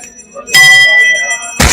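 A bell is struck once in Jammu and rings out loud and close with a bright, sustained tone, followed by a sharp thump.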